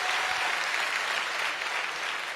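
Loud, dense applause from a crowd at a business speech event in Jaipur, sustained evenly throughout without any talking.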